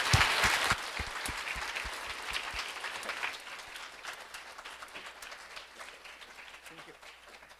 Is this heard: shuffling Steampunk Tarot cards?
no